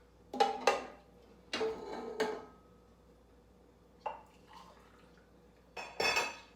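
Homemade cherry jelly is poured from a measuring cup into glass jars, producing several separate bursts of clinking glass and liquid splashing, each lasting under a second, with quiet gaps between them.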